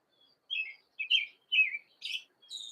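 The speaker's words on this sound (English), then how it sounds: "The birds were so loud this morning. I was like, I'm opening that window." Birds chirp in short bursts of high tweets through an open window on a morning after rain, faint and somewhat distant, about five separate calls spaced roughly half a second apart with no talking.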